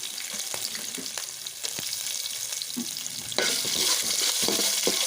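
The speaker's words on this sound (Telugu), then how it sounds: "ఇలా ఆయిల్లో మంచిగా వేయించుకున్న తర్వాత కరివేపాకు రెమ్మల్ని కూడా యాడ్ చేసుకోవాలి" Grated ginger, garlic and dried red chillies fry in hot oil for mango pulihora, making a continuous close sizzle dotted with crackles and stirring taps that grows suddenly louder and brighter partway through, with no speech.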